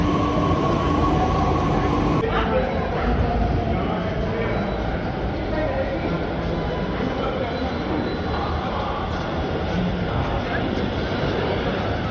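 A Delhi metro train arriving at a crowded station, rumbling loudly, a continuous heavy roar of wheels and motors, with voices faintly mixed in.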